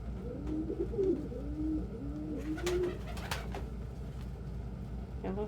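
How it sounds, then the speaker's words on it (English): Pigeons cooing close by in a series of soft, low, warbling calls that roll one after another, with a few sharp clicks and rustles between them over a steady background hum. "Pigeons are about as horny as they are bright, and it's really easy for them to get wires crossed."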